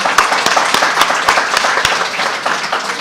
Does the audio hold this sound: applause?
yes